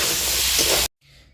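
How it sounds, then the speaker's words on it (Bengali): Potatoes frying in a pan hiss loudly and steadily for nearly a second, then the sound cuts off abruptly and returns as a faint, softer hiss. "আলু ভাজা করছি।"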